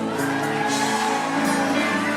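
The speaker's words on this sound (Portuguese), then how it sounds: "Quem pode aplaudir e gritar?" A church congregation in Manaus claps and shouts in a dense, continuous wall of crowd noise, loud and close throughout.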